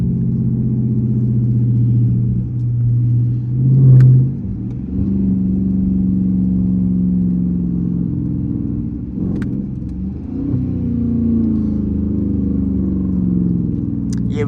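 A Dodge Charger RT on the highway, heard from inside the cabin: the engine drones in a deep, steady rumble that climbs and falls through several pulls and gear changes, with a few faint clicks along the way.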